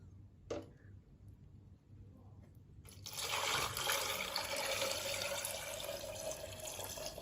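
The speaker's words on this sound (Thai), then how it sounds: "แล้วก็จะเทน้ำเกลือที่มันเย็นแล้วนะคะ ลงไปในขวดโหลค่ะ" Cooled salt brine pours steadily into a glass jar of eggs for salted eggs, a broad splashing rush for several seconds after a brief clink and quiet start.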